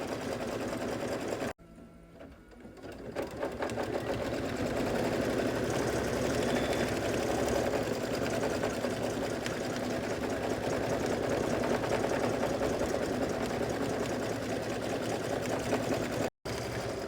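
An embroidery machine stitches satin underlay in a fast, steady mechanical whir, pausing briefly near the start before running on evenly at moderate volume.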